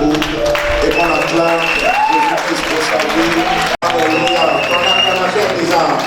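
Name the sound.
congregation applauding and acclaiming at church meeting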